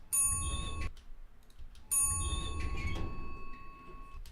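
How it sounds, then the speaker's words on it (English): An elevator-style bell chime for a game door rings twice, each a bright sustained ding with a soft thump beneath it and a short silent gap between the strikes, heard close and fairly quiet. "or our elevator bell."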